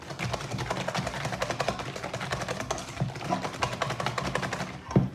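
Coconut sponge batter is whisked by hand as eggs go in, giving a fast, steady rhythmic ticking of the whisk against the bowl, close and continuous with a brief knock near the end.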